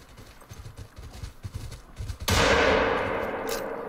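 A single loud rifle shot at a Cape Buffalo in theHunter COTW, sharp and close, ringing out with a long decaying tail after a stretch of quiet rustling.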